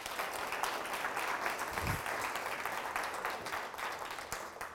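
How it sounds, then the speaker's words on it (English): Steady applause from an audience at a dignity and respect presentation welcoming the LGBT community, many hands clapping evenly at moderate volume with no speech over it. "So I'd like for you to clap with me and welcome the LGBT community."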